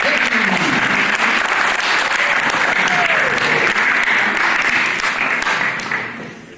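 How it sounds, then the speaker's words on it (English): Loud, sustained applause fills the room at an after-prom hypnotist show, with cheering voices mixed into dense clapping that fades near the end. "So a big round of applause for Jeremy, ladies and gentlemen"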